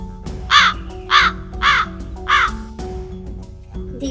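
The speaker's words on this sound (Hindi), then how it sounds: "This is crow." A crow caws four times in an even, steady rhythm, loud and close, over a soft sustained musical background tone.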